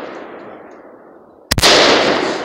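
One loud, sharp rifle shot from a Riley Defense AK47 at target practice cracks midway, followed by a long ringing echo, after a stretch of quiet outdoor hiss.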